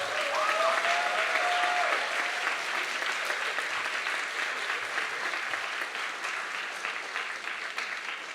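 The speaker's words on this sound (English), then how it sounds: "I would like to begin by having a round of applause for all of the people who support us" Steady, sustained applause fills a hall at a college undergraduate awards ceremony, many hands clapping evenly at moderate distance with no letup, while a faint voice sits underneath.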